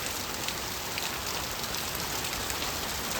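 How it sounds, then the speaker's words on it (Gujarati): Heavy rain pours steadily and evenly, a dense close hiss of drops striking surfaces with no breaks or voices. "અમારા સાપીમાં જોરદાર વરસાદ પડી રહ્યો છે"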